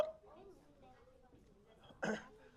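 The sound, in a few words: voice imitating hiccups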